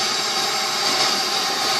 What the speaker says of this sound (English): Trying to get that machine showing the dirt coming out.